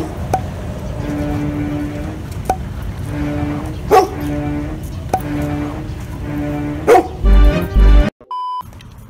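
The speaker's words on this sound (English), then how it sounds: "Can you tell your dog go?" A dog at an outdoor construction job-walk site barks repeatedly in loud, spaced bursts over a steady background hum, with a brief electronic beep near the end.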